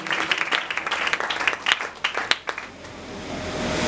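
A church congregation applauds, many hands clapping together loud and close for a few seconds before the clapping thins out into a quieter roomy hum.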